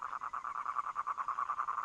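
A toad calls to attract mates and assert territory, giving a steady, rapidly pulsed trill that repeats without pause at moderate, fairly close range.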